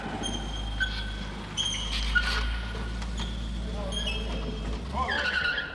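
During a film shoot, a car approaches with tires squealing and skidding in thin, drawn-out screeches that sit faintly over steady low background rumble.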